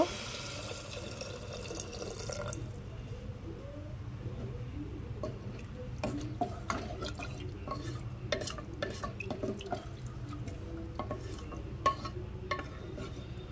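Water poured into a fried ghugni mixture in a pressure cooker pot, a brief splash then stirring with scattered clinks and scrapes over a low steady background.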